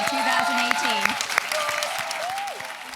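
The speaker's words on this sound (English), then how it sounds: "A round of applause" Audience applause for a graduating class of 2018 at a program spotlight event, a steady wash of clapping throughout, with voices and a few whoops or cheers rising over it.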